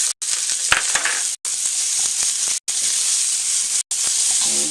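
Leftover cooked lamb frying in a pan for fried rice, a steady loud sizzle and hiss with small crackles and stirring scrapes, cut by a few brief silent gaps.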